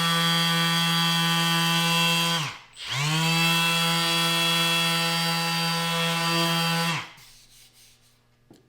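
A Milwaukee 3-inch sander whines at a high, steady pitch, briefly winding down and spinning back up, then stopping near the end; close and alone, with no voices.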